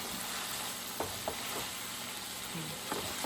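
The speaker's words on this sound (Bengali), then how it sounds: "এখানে নাড়তেছি এখন এটাকে ভেজে নিতে হবে পুরোপুরি পাঁচ মিনিট ধরে" Continuous frying sizzle of chickpeas in a pan with a few light stirring knocks scattered through, no talking.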